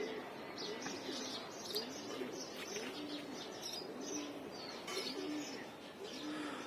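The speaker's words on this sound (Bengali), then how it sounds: "তো এই যে এখানে জানি কি আরো 3টা কবুতর উড়াইতেছে" Several pigeons cooing and fluttering over a house rooftop where a keeper flies his flock, soft repeated coos and faint chirps carrying steadily from a short distance with a light outdoor hum beneath.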